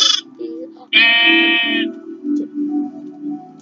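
Minecraft sheep give loud, close, wavering bleats in a game, one long bleat followed by shorter ones over a low background hum.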